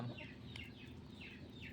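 Undertaker-line rooster and newly hatched chicks making repeated high clucks and cheeps in a steady rhythm over a low background hum, fairly faint and close.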